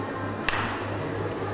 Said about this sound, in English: Grip down further on that hammer. Get a better momentum.